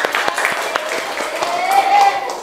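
Classmates applaud a group winning second place at a classroom awards ceremony, a steady patter of many hands with voices and a thin whistling tone over it.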